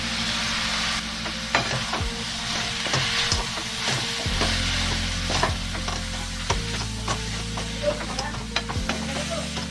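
Masala Maggi noodles sizzle loudly in a hot pan as soy sauce goes in, a continuous frying hiss broken by repeated scrapes and clunks of a spatula stirring against the metal.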